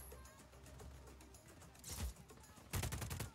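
Gunfire in the open-world action game Just Cause 4: a low rumbling backdrop breaks into two loud bursts of rapid shots, one around the middle and a heavier, longer volley near the end.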